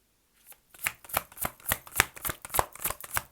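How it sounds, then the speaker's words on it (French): Oracle cards riffle and slap in a quick, even run of about ten crisp, close shuffling strokes after a quiet start. "Allez, je vous tire une petite carte."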